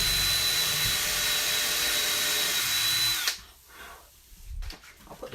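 A power drill driving into wood at a workshop bench whines loudly and steadily for about three seconds, then cuts out abruptly, leaving quiet handling noises and light knocks.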